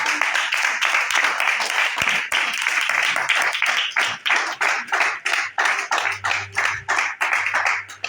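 A church congregation applauds after a Bible reading with dense, close clapping that settles into a rhythmic, pulsing beat. A faint low hum runs underneath.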